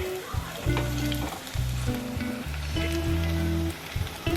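Crispy sago balls sizzling steadily in hot oil, a dense close crackle with bubbling, while a utensil turns them over in a few brief stirring strokes; no one talks.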